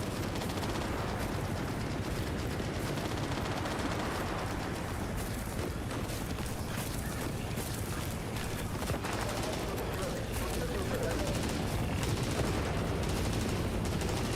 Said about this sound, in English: So the secret of the M60 is just to keep shooting.